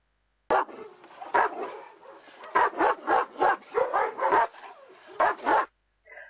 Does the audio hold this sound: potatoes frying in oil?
no